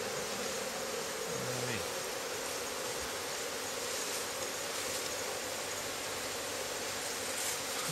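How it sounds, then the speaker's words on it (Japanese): Japanese honey bees buzzing during a honey harvest, a dense, continuous hum up close, with a few faint knocks and clatters in the background. "蜂がすごい。"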